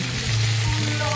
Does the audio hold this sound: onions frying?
yes